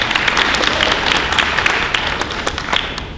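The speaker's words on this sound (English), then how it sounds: "So give her a round of applause." A crowd applauding at a college scholars award reception, with steady dense clapping that carries through, gradually easing off toward the end.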